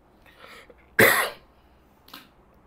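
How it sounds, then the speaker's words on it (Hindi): A single sharp, loud cough from a teacher in the middle of a lesson, with faint throat noises before and a smaller cough afterward, nearby and without speech. "खांसी इतनी आ रही है यार"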